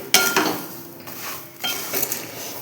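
Peanuts roast in a dry pan over a low flame, stirred with a spoon that gives a few light scrapes and clinks against the metal, quiet and close with no talk.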